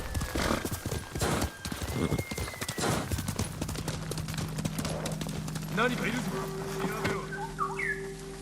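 Horse hooves clip-clop in Ghost of Tsushima, with a horse neighing and whinnying amid game ambience and a steady tonal hum, continuous over the whole stretch, with someone talking over it.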